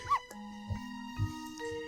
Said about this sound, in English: Woof, woof, bark, bark, woof,